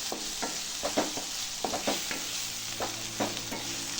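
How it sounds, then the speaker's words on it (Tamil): Onion and tomato sauté in hot oil for chicken gravy, a close, steady sizzle broken by repeated sharp scrapes and clacks of a stirring spoon against the pan, with no talk. "எல்லாத்தையும் சேர்த்து நல்லா வதக்கலாம்"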